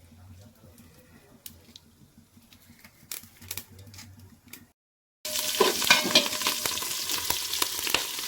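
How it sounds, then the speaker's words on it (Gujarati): Mustard seeds sizzle loudly in hot oil on a gas stove, tempering for patra: a sudden dense crackle that starts after a quiet pause, following faint kitchen clatter. "રાઈ નાખી દીધી વઘાર કરવાનો છે"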